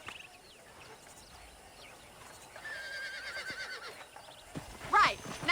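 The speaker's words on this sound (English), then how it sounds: "let's see if we can't wrangle some horses" Horses in the Red Dead Redemption video game whinny and neigh during a ranch wrangling scene, a sharp close neigh rising near the end over faint hoof clip-clop, birdsong and soft background voices.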